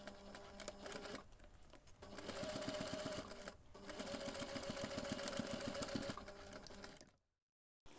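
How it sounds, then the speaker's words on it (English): A sewing machine stitches close along the edge of a fabric earbuds holder in two steady, rapid bursts separated by a short pause, ending in abrupt silence. "next you are going to take this to the machine and we are going to sew close to the edge along one side"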